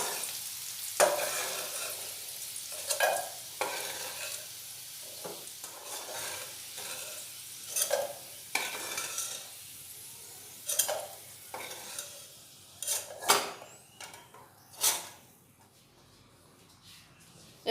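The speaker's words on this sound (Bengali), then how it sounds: "আলুগুলো লাল লাল করে ভাজা হয়ে গেছে," Golden fried potatoes stirred and lifted from hot oil while cooking moong dal, giving a steady sizzle with repeated sharp scraping and clattering strokes of a utensil in the pan, close and alone.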